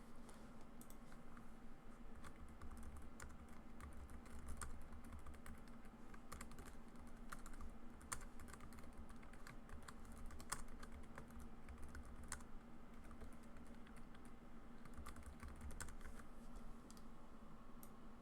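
Continuous keyboard typing in a quiet room, a steady run of soft, fast clicks lasting throughout, entering title block text in landscape design software, with a faint low hum underneath and no voices.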